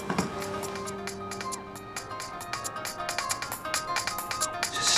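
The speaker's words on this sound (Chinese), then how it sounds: "电话。" A telephone rings indoors with a bright, repeating melodic electronic ringtone that plays steadily and fairly clearly, with faint background sounds.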